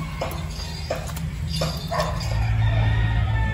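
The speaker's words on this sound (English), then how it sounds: "Chicken." A rooster crows several times at a rural riverside spot during outdoor cooking, the calls rising as repeated bursts over a steady low background hum, with no speech.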